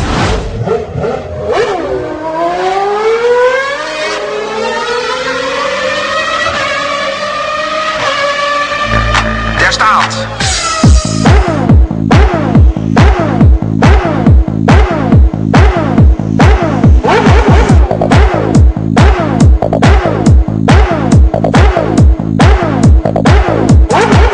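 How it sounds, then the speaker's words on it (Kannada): A student-built 600cc petrol race car engine revs up through rising pitch sweeps, then settles into a loud, rapid, rhythmic pulsing idle or rev sequence, close and alone without talk. "600 ಸಿಸಿ ಸಾಮರ್ಥ್ಯದ ಎಂಜಿನ್ ಸಾಮರ್ಥ್ಯದ ಈ ಕಾರ್ನ ಸ್ಪೀಡ್ ಪ್ರತಿ ಗಂಟೆಗೆ 140 ಕಿಲೋಮೀಟರ್"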